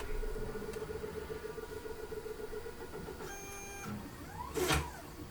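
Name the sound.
printer running while printing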